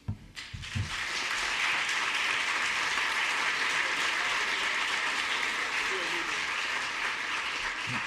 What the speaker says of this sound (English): y'all got the clapping out of the way first